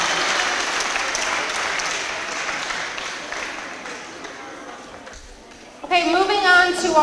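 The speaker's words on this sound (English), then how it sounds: "Let's give them a round of applause for such good participation." Audience at a school's third-quarter academic awards clapping for students, a dense round of applause that gradually fades, then gives way to a voice speaking close by.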